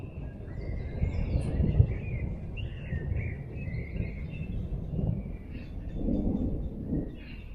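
Thunder rumbles all around during a storm, a continuous low roll that swells and fades over several seconds, with faint bird chirps scattered above it.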